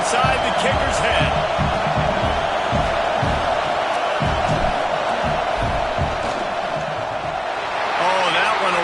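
Roaring stadium crowd in College Football 26 as a field goal try lines up, a dense, loud and steady wall of noise with thumps and yells throughout, and game commentary talking over it.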